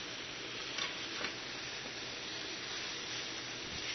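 Sukiyaki ingredients, Kenyan-style, sizzle in a pan with a steady, quiet frying hiss and faint stirring clicks, with no voices.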